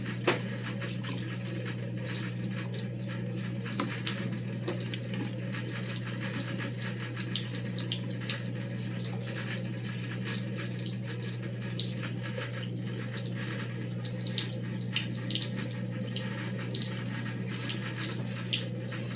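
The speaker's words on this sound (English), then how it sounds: "Wash my hands." A tap runs steadily while hands are washed, a constant close, moderately quiet gush of water that barely changes over the whole stretch, with no one speaking.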